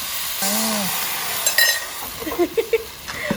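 Minced pork and basil are stir-fried over a charcoal stove, giving a sizzling hiss with scraping and clinking of the spatula against the pan, while a voice talks over the cooking.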